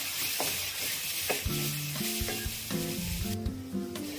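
Sugar being stirred into a mango sheera mixture of mango and milk in a pan, with a steady sizzle and repeated scraping strokes of a spoon across the pan, close and fairly loud throughout.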